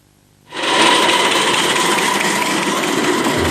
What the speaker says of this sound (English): Number 7 is Colin Marsh on his 5-inch gauge Sweet Pea.